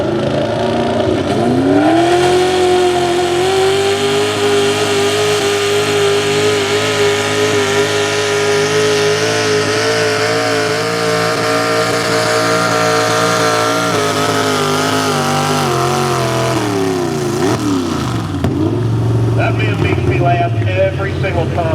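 A pulling truck's engine screams at high RPM during a truck pulling event, one sustained loud roar with the pitch holding steady, then dropping and rising again near the end while an announcer talks over it.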